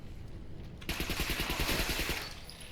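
Submachine gun firing in a video game, a quiet stretch broken by a sudden continuous burst of rapid evenly spaced shots lasting over a second, loud and close, then fading into a lingering tail.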